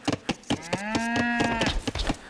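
A single long, loud cow moo rises and falls in a medieval real-time strategy game, over steady rhythmic clicking and no voices.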